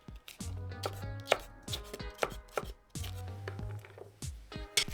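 A knife chopping a sweet or hot chili into sticks on a cutting board, crisp rapid strokes coming in quick bursts, close and clear with short pauses between runs.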